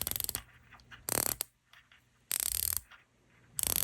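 The ceramic-insert bezel of a titanium Tandorio Turtle dive watch ratchets through turns, producing bursts of rapid bright metallic clicks, close up, separated by quieter pauses.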